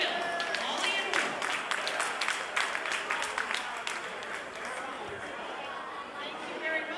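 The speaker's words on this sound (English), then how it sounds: "Give her a round of applause." A crowd applauds at a 1995 charity kickoff event on a Seattle pier, with dense clapping and chatter that stay steady and fairly loud throughout.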